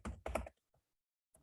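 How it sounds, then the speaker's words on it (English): Fast typing on a computer keyboard, close and quiet, with two short bursts of clatter and a few faint isolated key taps after them. "Typing that."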